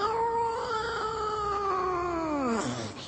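A man vocally imitates a second, rival tomcat's caterwaul, one long, wavering, nasal yowl held steadily for about two and a half seconds before sliding down sharply in pitch at the end.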